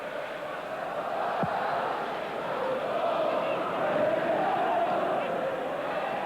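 A near-capacity football stadium crowd at Everton versus West Ham in 1995/96 keeps up a steady, distant roar of chanting and noise throughout.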